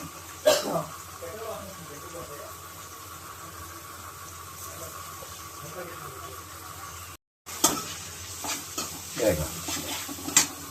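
Green chillies are stirred into tomato rice in a pan, with a soft scraping stir and a faint sizzle, a few louder clanks of utensil on pan, and a brief dropout midway.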